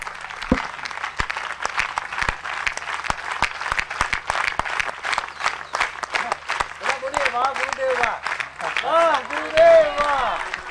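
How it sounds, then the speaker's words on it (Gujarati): An audience at a devotional gathering gives Gurudev a standing ovation with sustained, crackling applause from many hands. Voices rise over the clapping toward the end. "આપણે ફક્ત તાળીઓથી આપણા હૃદયના ભાવો સ્ટેન્ડિંગ ઓવેશન આપીને પરમ પૂજ્ય ગુરુદેવશ્રી પ્રત્યે વ્યક્ત કરીશું"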